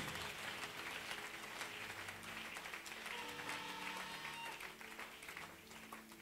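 A church congregation at a Sunday service applauding to acclaim Jesus, steady dense clapping from many hands sustained throughout, with a murmur of crowd voices underneath, heard from a moderate distance.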